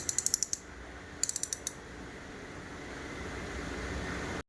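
A hand-turned butter churn's locked ratchet clicks in two quick bursts of about five sharp ticks each, close and crisp, followed by a continuous low whirring as the handle keeps turning.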